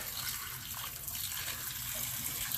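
Polished rocks rinsed under running water, a steady broadband gush like a tap flowing without pause, fairly close and even in level, with no talking.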